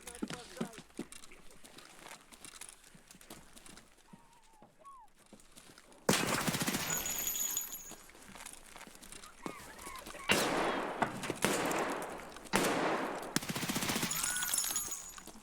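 Gunfire in the video game Escape from Tarkov SPT: after a quieter stretch, loud bursts of rapid shots and fusillades crack out in several volleys, with a voice speaking at times.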